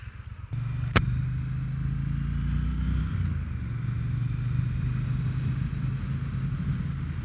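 A Triumph T120 Bonneville motorcycle rides along on a test ride, its engine droning steadily with a low rumble that shifts pitch after a sharp click near the start, with wind noise over it.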